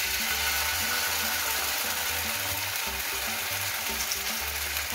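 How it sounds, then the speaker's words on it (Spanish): Garlic paste frying in the same pan used to brown chicken breasts, a loud, continuous dense sizzle with no break, close up. "Y aquí en la misma sartén que estábamos dorando nuestras pechugas, vamos a aplicar un poquito de pasta de ajo."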